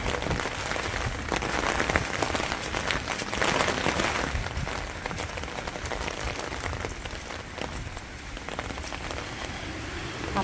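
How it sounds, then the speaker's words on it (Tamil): Heavy rain in strong wind pouring steadily onto surfaces in New Zealand, a dense hiss with gusty swells throughout, no talking. "ஆ காற்று ரொம்ப அடிக்குதே"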